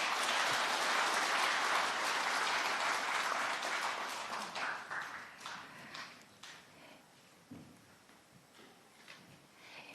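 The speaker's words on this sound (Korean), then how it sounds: "다시 한번 큰 박수 부탁드립니다." Applause from the audience at a Parents' Day ceremony, strong clapping at first that thins and fades over several seconds into scattered claps and quiet room noise.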